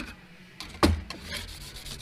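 A putty spreader is scraped clean of body filler during dent repair on a Chevrolet Malibu, one sharp close rasping stroke followed by quieter rubbing scrapes.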